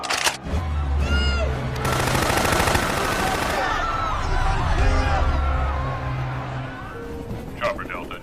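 Soldiers fire guns in a Resident Evil zombie film scene, with bursts of rapid gunfire amid loud film sound effects, shouting and a swelling score, under narration in Indonesian.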